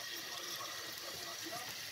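Starchy pasta cooking water poured into a pan of carbonara with bacon, a soft steady splashing and sizzling hiss held at an even level.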